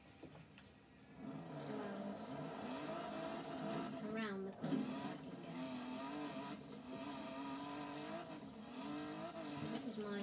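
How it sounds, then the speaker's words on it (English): A Mercedes 190 Evolution driven in the racing game Forza, its engine droning steadily with rising and falling revs and a brief tyre squeal near the middle, while someone talks over it throughout. "But this is the closest I can get with the 190 Evolution."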